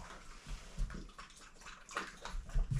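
Water is poured and sloshes into a container for a Labrador puppy. It makes a soft, continuous gurgling splash with small bursts, fairly quiet and close.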